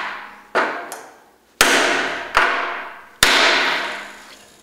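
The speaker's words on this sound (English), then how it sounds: "we can try and drive out the bolts. And as you can see, this is a big damn hammer" A big hammer driving out stuck bolts in a rebuild shop, five hard metallic strikes at an uneven pace, each one loud and close with a ringing decay.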